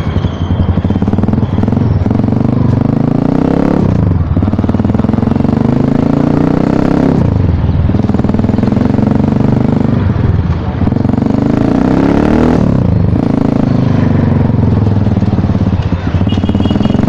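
A 2018 Asian Beast dirt bike runs close by with engine and exhaust loud and steady, the pitch rising and falling in several rev swells across the whole stretch, with a voice occasionally speaking over it.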